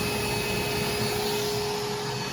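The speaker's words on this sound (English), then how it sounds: "So I'll hit start and you'll see every piece I put up here, it vacuums it down." Vacuum hold-down table on a CNC router running in a workshop, a steady loud whirring hum with a constant tone that carries through the whole stretch without talk.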